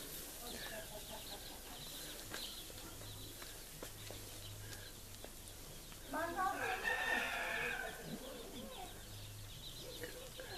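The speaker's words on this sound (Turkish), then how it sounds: "Tavuklar kendi arasında kapışıyor bu sefer" Chickens on a farm squabble among themselves, clucking and squawking in a brief flurry of agitated calls, with a low background hum and occasional faint noises around them.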